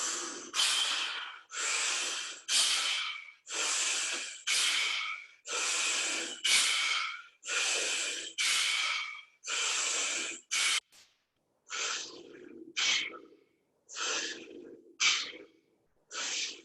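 Fourteen forceful breaths in a rhythmic breathing exercise with palms down, each a loud, airy rush through the nose or mouth in steady succession, the later ones shorter and choppier with small gaps, close and alone with no speech.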